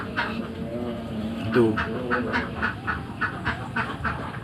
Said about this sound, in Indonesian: Oh iya, ada lagi bebek Bali.